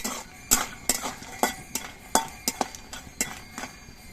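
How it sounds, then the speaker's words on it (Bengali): A utensil scrapes and clinks against a metal frying pan while lentil dumplings fry in oil, in a steady stirring rhythm, about two strokes a second, close and fairly loud. "ডালের বড়িগুলো ভাজার সময় কিন্তু অনবরত নাড়তে হবে"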